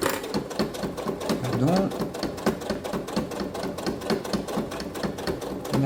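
A sewing machine runs steadily, stitching fabric for a small earphone pouch, with a brief pause as the needle stays down and the fabric is pivoted; its rapid mechanical chatter stays loud and close, and a voice speaks briefly over it.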